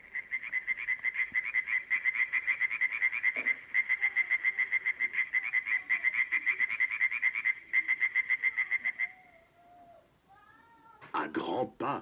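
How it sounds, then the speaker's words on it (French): A frog croaking in a pond gives long, rapid, pulsing trains of loud, close calls, then a pause with faint squeaky animal cries and a brief burst of other animal noise at the end. "Dans la mare, la grenouille se prépare à chanter."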